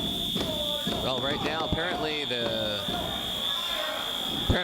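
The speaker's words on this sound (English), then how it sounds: "the fire alarms have been sounded here at the ACPW arena" A fire alarm sounds inside the ACPW wrestling arena, a steady, piercing high electronic tone that runs unbroken throughout while a commentator keeps talking over it.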